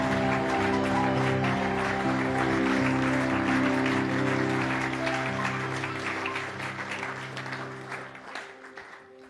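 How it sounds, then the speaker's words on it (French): A church congregation applauds the Lord, with sustained clapping that blends with a held musical chord and then gradually fades away, and no one speaks over it. "On peut applaudir pour le Seigneur."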